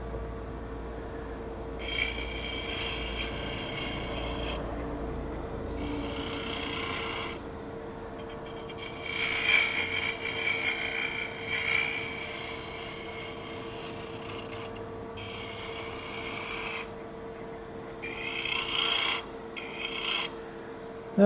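Detail gouge cutting wood while hollowing a Christmas orb on a lathe, giving repeated raspy scraping passes of a few seconds each, separated by brief pauses, over a steady motor hum.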